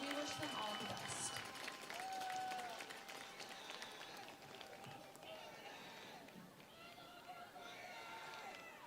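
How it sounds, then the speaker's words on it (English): A football crowd in the stands gives Tuttle seniors a sustained round of applause, a broad wash of clapping and cheers from a distance with occasional shouts. "Please join us in a round of applause for all of our Tuttle seniors tonight"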